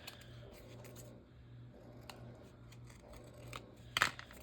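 Scissors trimming paper for a journal, with a few soft, quiet snips over a low background hum and a sharper cut near the end.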